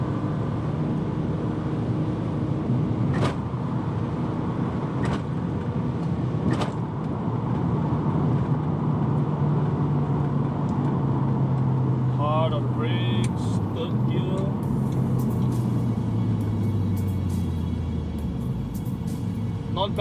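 A Mazda 6 2.3 turbo accelerates hard from third gear at full boost, its engine note rising in pitch, dropping at a gear change, then climbing again under road and wind noise, with someone talking over it.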